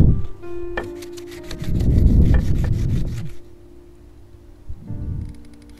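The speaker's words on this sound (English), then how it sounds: "And then go back and sand that edge with 150 to 200 grit sandpaper to make the silicone stick very well." Sandpaper of 150 to 200 grit rubbed by hand along the edge of a sailboat window opening, giving a few bursts of close, scratchy strokes with quieter gaps between them.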